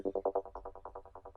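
Synth pluck patch built from a gritty oscillator tone through a comb filter, a quick run of about a dozen short, evenly spaced plucked notes, dry and fairly quiet.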